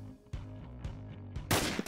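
Gunfire in a Roblox heist game, a few sharp loud shots spaced irregularly, followed by a denser burst near the end, with no talking over them.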